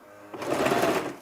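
A sewing machine stitches a little girl's dress in one quick close burst, its motor rising and holding briefly before stopping.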